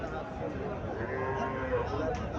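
Cattle moo at the Chandimura cattle market in Comilla, where a local cow with a Sahiwal calf stands. A drawn-out low moo rises through the crowd noise, with people talking over it.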